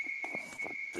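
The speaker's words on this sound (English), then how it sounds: "Yeah, I'm hearing like cicadas or something." Cicadas or similar insects drone in the background as a steady high, thin buzzing tone, faint and continuous beneath brief intermittent sounds.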